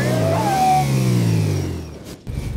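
A Nemesis motorbike engine in the video game Garry's Mod revs loudly and then winds down in pitch, with a brief gap before it picks up again.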